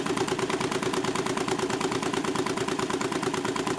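A Stirling engine powering a motorcycle runs at about 588 rpm, giving a steady, fast mechanical chugging with dense rapid pulses that hold even and loud for the whole stretch, with no voices.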